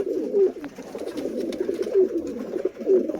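A pair of teddy-breed pigeons coo softly and close by, giving three or four repeated low throaty coos spread evenly over a quiet background, with no one talking.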